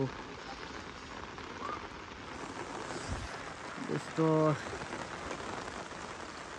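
Heavy rain patters steadily on a surface, a dense continuous hiss, with a brief word spoken and a short tonal beep partway through.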